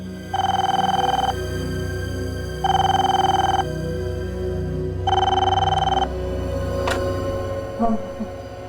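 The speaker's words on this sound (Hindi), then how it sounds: "किसका फोन हो सकता है?" A telephone rings three times with steady electronic bursts separated by pauses, clear and fairly loud over a quiet indoor background.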